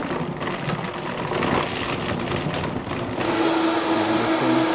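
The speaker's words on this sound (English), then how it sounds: "let's blend her up and see what happens here" A blender whirring steadily as it mixes ice cream, milk and juice into a shake, a loud continuous motor roar that shifts pitch slightly partway through as the contents settle.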